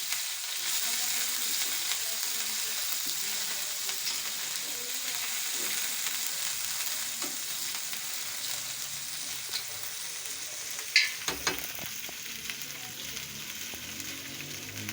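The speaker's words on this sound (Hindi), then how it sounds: "इसी साथ हम थोड़ा सब्ज़ मिर्चों का पेस्ट डाल देते हैं और इनको अच्छे तरीके से भून लेते हैं" Green chili paste frying in a pan with ginger paste for a pinwheel samosa filling, giving a steady, soft sizzle throughout with a few brief clinks of stirring near the end, no talking.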